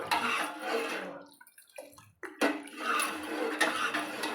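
Ambali, a Telangana millet porridge made with fermented flour, being stirred in a pot: wet scraping and clinking of a spoon against the pot, close and steady with a short pause midway, no talking.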